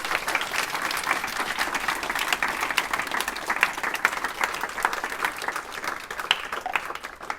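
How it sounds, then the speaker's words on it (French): A conference crowd at a talk on sustainable tourism applauds its panelists with sustained, even clapping from many hands that continues throughout without a break. "Vous pouvez les applaudir, vous pouvez les remercier."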